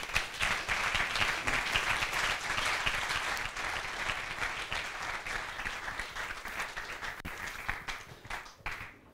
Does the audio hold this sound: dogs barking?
no